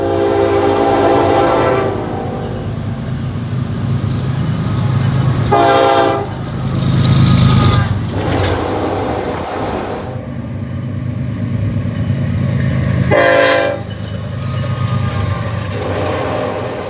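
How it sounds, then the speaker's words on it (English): A Norfolk Southern diesel freight train with a long string of gondolas and a boxcar rolls steadily past, its wheels rumbling continuously while a horn sounds in short bursts three times over the passing cars. "There was also a Wisconsin Central boxcar before the end of the train rolled by."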